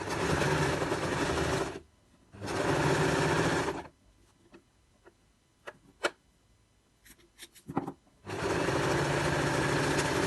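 A sewing machine stitches patchwork strips in two steady runs early on, then one more near the end. Quiet clicks and handling noises fill the gap between.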